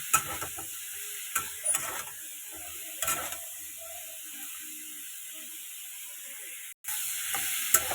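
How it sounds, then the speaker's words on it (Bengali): Vegetables lightly frying in a pan with no spices added, for a fish-free home-cooked dish; a steady soft sizzle runs throughout, broken by occasional scraping clicks of stirring. "এই যে এটাকে এবার একটু হালকা ভেজে নেব, কোনো মশলাই দেবো না।"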